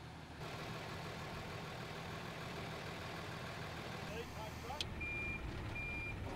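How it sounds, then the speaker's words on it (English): An Isuzu FTS 750 dual 4x4 forest fire tanker with central tyre inflation idles, then begins reversing, its backup alarm beeping faintly a few times over the low engine rumble. "Reverse the vehicle for another attempt, using your existing wheel tracks."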